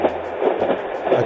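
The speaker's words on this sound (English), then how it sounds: "A train." A train rumbles and clatters from a small sound machine, a steady mid-range rolling drone with a faint rhythmic throb, played back close to the microphone with no talking.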